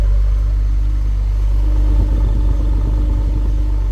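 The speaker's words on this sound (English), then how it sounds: "the stock exhaust don't sound bad on these at all. Look at that idle." A twin-turbo 3.5-litre V6 engine in a 2017 Ford Explorer Sport idles steadily through a stock exhaust, a deep even rumble heard up close without any talking.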